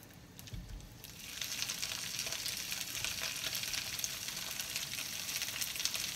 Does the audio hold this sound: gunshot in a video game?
no